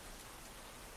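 Steady rain falls in a dense, even hiss with no breaks, faint and continuous.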